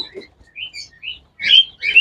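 Birds chirp close by at a dove and quail farm: several short, bright tweets, then two louder chirping bursts near the end.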